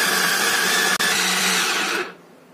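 A blender grinds dried kaffir lime leaves and spices coarsely, a loud steady motor whir with a brief dip midway, then cutting off near the end.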